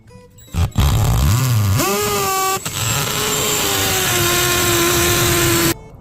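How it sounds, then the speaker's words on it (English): Power drill boring through an exterior wall to run wiring for a hardwired video doorbell camera; a loud, steady whine rises in pitch as the bit spins up, briefly dips, then holds near and continuous for about five seconds before stopping. "So I think it's safe to drill."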